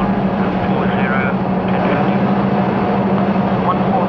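Steady, droning cabin noise inside a Royal Air Force Nimrod maritime patrol aircraft in flight, a loud constant engine hum with a low tonal whine, while someone speaks briefly over it.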